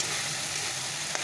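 Masala with turmeric powder frying in a pan, a continuous close sizzle with one faint scrape of stirring near the end.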